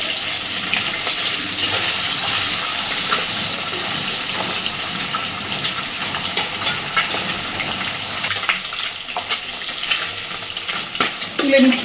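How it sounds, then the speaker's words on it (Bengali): Rohu fish pieces lightly frying in hot oil for a kalia, giving a continuous loud sizzle with bubbling crackle and occasional stirring or shifting sounds, no voices. "মাছগুলোকে হালকা করেই ভাজবো, খুব বেশি কড়া করে ভাজবো না।"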